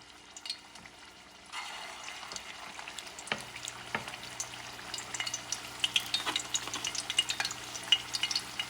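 Camel meat kofta meatballs frying in a pan, a soft sizzle that swells after a quiet start into a busy crackle with scattered pops and occasional light knocks as they are moved.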